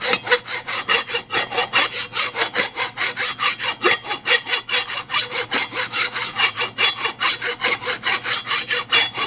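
A file is worked over the warped base of a Holley carburetor, giving a loud, close, evenly paced scrape of repeated strokes, roughly two per second, with no talk.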